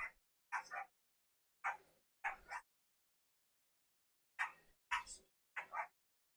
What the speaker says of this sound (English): I don't know if you hear the dogs in the background barking